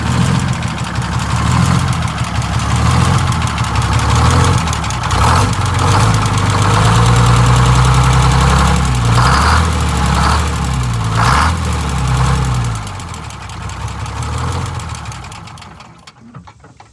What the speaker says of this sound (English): It's running, but it's not running well.